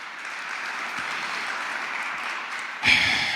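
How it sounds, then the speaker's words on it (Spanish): A church congregation gives sustained applause, a soft, steady wash of clapping from a gathered crowd that swells louder near the end. "Denle un fuerte aplauso ahí al Señor."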